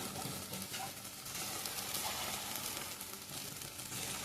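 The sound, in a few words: masala frying in pan for Mangalore-style egg curry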